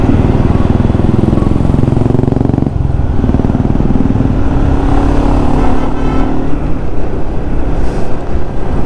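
Group ride of more than 150 Yamaha R15 motorcycles on a Bangalore highway, a steady loud engine drone with passing bikes and heavy wind rush throughout, no talking.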